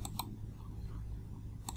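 Quick clicking keystrokes on a computer keyboard come in short bursts at the start and again near the end, with a quieter stretch in between, close and fairly soft against a low background hum.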